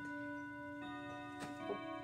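A clock ticking quietly and steadily in a room, faint regular ticks over a sustained tone, with no talking.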